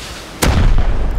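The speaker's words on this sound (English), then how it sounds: "Shoot a rocket in there, man." A rocket is fired and explodes in the Rust video game during a base raid: a single loud, sharp blast followed by a heavy rumbling tail.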